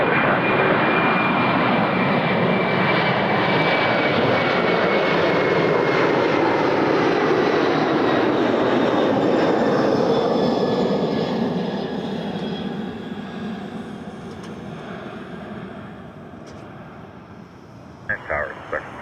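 Airliner jet engines roar loudly and steadily at Toronto Pearson airport, a broad continuous rumble with a whining tone that slowly fades after a while, with brief knocks near the end and radio talk faintly present.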